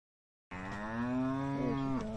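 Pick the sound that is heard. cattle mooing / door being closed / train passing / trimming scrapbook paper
cattle mooing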